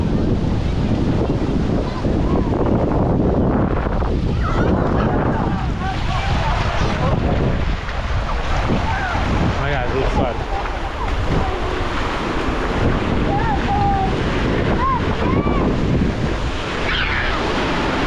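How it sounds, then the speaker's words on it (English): Ocean surf rolls in steadily at Nyali Beach in Mombasa, Kenya, a loud continuous wash of breaking waves mixed with gusty wind buffeting the microphone, with no pauses throughout. "There's too much waves for me."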